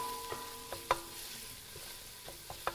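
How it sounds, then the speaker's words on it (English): A spoon stirs a spicy dish in a pan, making a handful of scattered scraping taps over a soft, quiet sizzle. "I'm going to stir this up."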